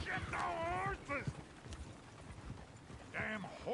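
Horses' hooves clip-clop at a steady walking pace, fairly close, with a voice talking briefly at the start and again near the end.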